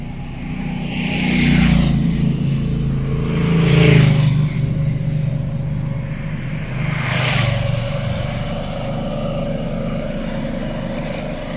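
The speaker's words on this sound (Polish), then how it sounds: "Jeździ, skręca, hamuje." A one-year-old Mazda CX-5 with front-end damage and about 5,000 miles runs steadily, its engine rising in a few revs with broadband swells as it drives close by, with no talk.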